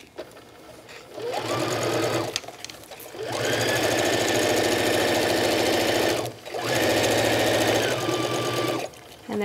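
A sewing machine stitches a zipper into a vinyl pouch in two long, steady, rapid bursts with a brief pause between them, loud and close, with faint handling noise at the start and end.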